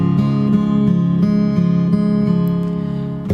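Fingerstyle acoustic guitar picks the opening bar of a song's verse on open strings, a steady run of plucked notes ringing into each other, close and clear, with a brief louder accent near the end and no voices.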